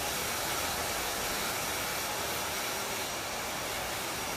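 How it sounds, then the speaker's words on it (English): A handheld hair dryer blows steadily and loudly throughout, a constant close-up rushing whoosh while hair is dried during a short women's haircut. "after it's mostly dry, I'll move around the dryer a little bit"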